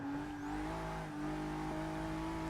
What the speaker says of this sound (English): Oh, the sound of this engine is unreal.